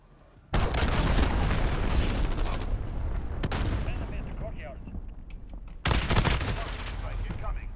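A Modern Warfare multiplayer gunfight bursts in with dense, loud automatic gunfire and booms, fades into scattered shots and debris, then erupts again in a second heavy volley near the end.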